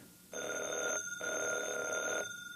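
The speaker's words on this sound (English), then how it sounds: "Evans, did that phone ring?" A telephone bell rings twice in a radio drama, two sustained bright trills separated by a short pause, clear and close.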